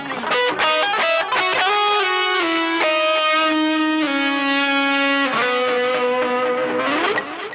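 Electric guitar with distortion and effects plays a legato melodic phrase from a song, loud and steady, held notes with slight bends and echo, no voices.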